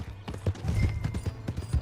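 Horse hooves clip-clop in a quick, steady rhythm on the ground in Red Dead Redemption 2, close and fairly loud, with some mechanical rattle alongside.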